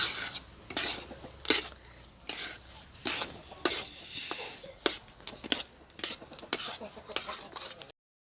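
Spoon stirring a thick laddu mixture with cashews and raisins in a pan, heard as repeated close scraping strokes with brief knocks against the metal, in an uneven rhythm and with no talk.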